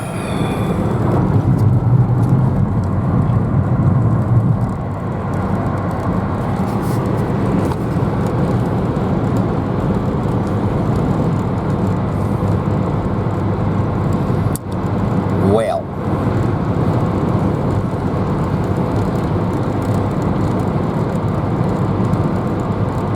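A Pontiac Vibe GT with a 2ZZ-GE engine carrying a P0420 code cruises along, heard from inside as a steady low road and engine drone, with talking over it and a brief bump midway.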